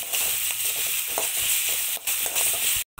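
Onions fry in oil with a continuous close sizzle and the occasional stir from a spoon, ending in a brief cutoff, while a home cook prepares sambar for tiffin.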